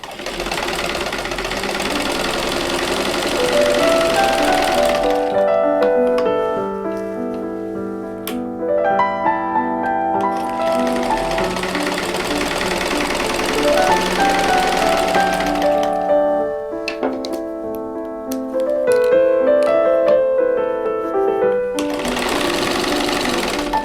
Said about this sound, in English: sewing a 1/4 inch away from the drawn line on both sides